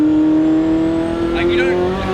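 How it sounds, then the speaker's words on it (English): Ferrari F40 engine while driving, a steady, loud droning hum at a constant pitch with a continuous rumble underneath, heard from inside the car, with brief voices over it. "the engine's incredible"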